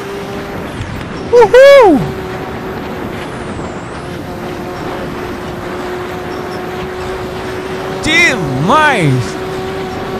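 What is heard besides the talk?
Porsche Spyder and LaFerrari racing in video game Assetto Corsa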